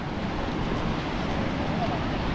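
Forceful stream water rushing across a waterfall crossing makes a loud, steady broadband roar, continuous and close, with no breaks or separate splashes.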